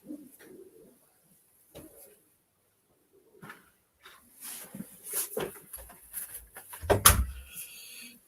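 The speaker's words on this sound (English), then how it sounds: "This is a nice pigeon." A pigeon hen coos softly in short intermittent bursts, joined by close handling and rustling sounds that grow busier toward the end.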